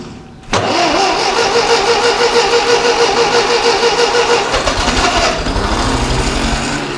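A Ferguson TEA20 tractor engine cranks with a sharp catch, then fires into a loud, steady mid-pitched running rumble with choke on, close by, the tone shifting and settling lower near the end.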